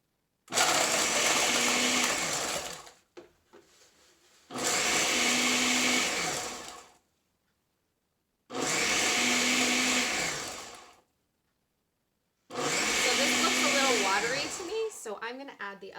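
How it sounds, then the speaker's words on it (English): Countertop blender whirring through a fruit smoothie with ice in four loud bursts of about two to three seconds each, separated by brief pauses, with a steady high motor whine and rattling contents. "Let's blend it up and see how it comes out."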